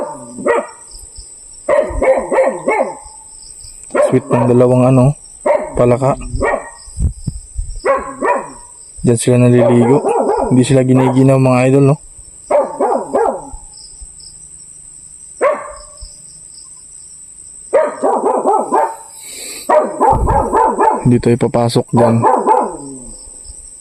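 A village dog barks repeatedly in bursts, near and loud, while someone talks between and over the barks and crickets keep up a steady high chirr at night.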